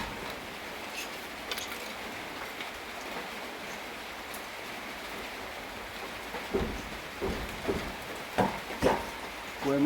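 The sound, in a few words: rain falling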